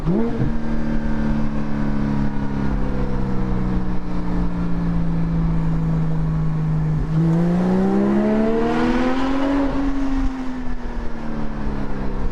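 Porsche 718 GT4 fitted with a Soul Performance race exhaust, heard from the cabin as a loud, steady engine drone that dips briefly and then climbs in pitch as the car accelerates, with no talking.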